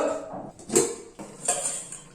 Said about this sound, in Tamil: இப்போ நல்லா மேஷ் பண்ணிக்கிறேன்